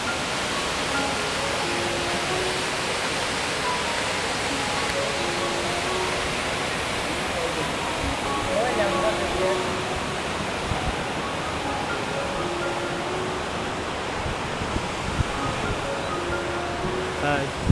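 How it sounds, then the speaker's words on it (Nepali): A waterfall in Pokhara pours in a constant broad rushing roar, steady and full throughout, with faint voices occasionally underneath. "यो चाहिँ झर्ना हो एकदम राम्रो झर्ना आइरहेको छ"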